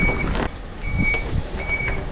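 A truck backing up while moving a huge combine sounds a steady, repeating reversing beeper over the low rumble of its engine, close and loud.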